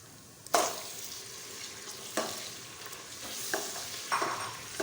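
Mutton goes into a hot pan for a saag gosht dish, landing with a sudden loud sizzle that settles into steady frying, broken by a few scraping stirs.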